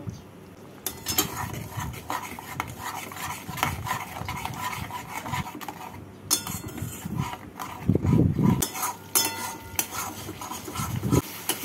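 Spice paste with beaten sour yogurt, sugar and a splash of water is stirred and fried in a pan for a prawn and taro curry, with metal spatula scrapes and clinks against the pan throughout, close and fairly loud.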